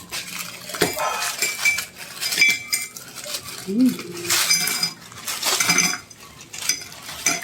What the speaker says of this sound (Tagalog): At ngayon ay maglagay ako ng ice.